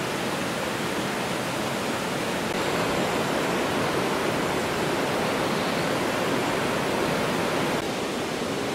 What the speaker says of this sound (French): voyez déjà le débit de la rivière